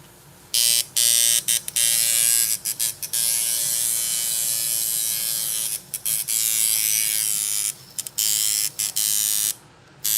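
A tattoo coil machine fitted with two number 12 needles buzzes loudly in a series of on-off bursts. Some runs are long and steady, others short and choppy, with brief silences between them.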